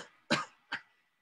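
A person imitates a dry, persistent cough: two short, sharp coughs close to the microphone, separated by a brief pause, in otherwise quiet surroundings.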